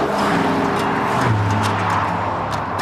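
A supercharged Saleen S351 Mustang engine roars loudly and steadily close by, its pitch dropping and settling into a low growl.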